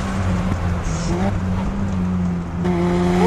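A 417 horsepower Mazda RX-7 accelerating hard, its engine note droning loud and steady with rising harmonic sweeps as gears climb, recorded close from the moving car with no talk.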